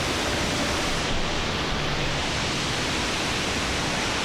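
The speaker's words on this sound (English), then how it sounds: "this is Big Creek Falls, and if you can tell from the camera, it's I think it's called a cathedral waterfall" Big Creek Falls, a steep cathedral-style waterfall in Washington, roars as a steady, loud, broadband rush of falling water with no voices.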